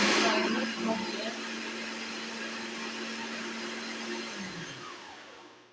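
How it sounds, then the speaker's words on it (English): A blender that is not very strong grinds spinach for a detox smoothie, a steady motor whir that holds for about four seconds before winding down, with a faint voice near the start. "That's the spinach that I'm blending."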